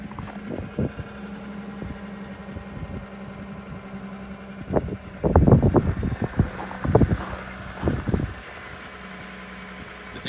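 A 2007 Lexus ES350 sits idling after a cold start, its low steady engine and exhaust hum running throughout, broken by louder bursts and buffeting wind noise on the microphone near the exhaust.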